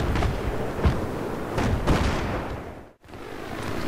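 Heavy tank cannon fire in the Battlefield 3 desert warfare game, several booming blasts among steady loud rumbling battle noise, with a brief dropout near the end.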